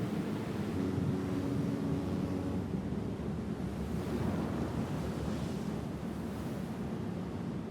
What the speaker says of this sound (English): it's all stormy out there